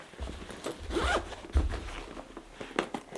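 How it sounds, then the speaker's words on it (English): A zipper on a bag is pulled open in a few short, rasping bursts, close and moderately loud, separated by brief pauses. "This is zipper back here"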